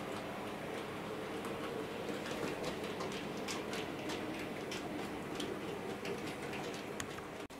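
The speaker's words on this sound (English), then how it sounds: "You'll see this class 8 now going past the other two class 8s." Hornby Class 08 model diesel shunter locomotive rolling along model track, a continuous fine whirring rumble with light ticking clicks from the wheels, fairly close and steady, ending with a brief knock.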